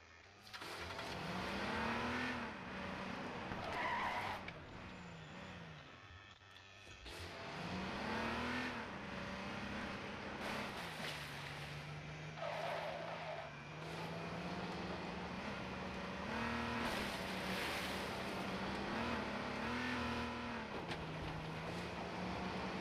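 A car engine in the survival game H1Z1 hums and revs steadily throughout, its pitch rising and falling with acceleration, while a skid or two may blend into the continuous engine drone.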